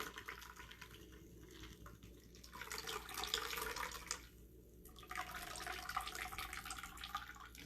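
A lemon drop cocktail pours and trickles into a rimmed glass, a soft, steady splashing stream with a brief pause midway, quiet and close.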